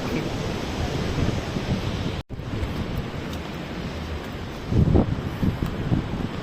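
Wind and surf from the Arabian Sea at Worli Koliwada in Mumbai wash steadily past the microphone, with a brief dropout and a louder gust of waves near the end.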